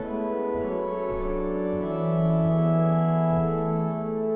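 A diapason stop on the choir division of a pipe organ plays a sustained, warm chord that shifts through a few changing notes, loud and continuous throughout.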